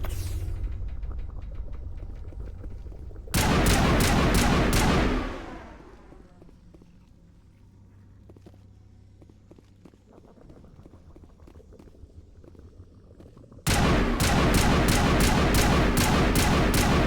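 Bursts of rapid gunfire blast out in the video game Mass Effect, a dense loud stretch followed by a quieter rumbling lull, then another sustained volley of rapid shots near the end.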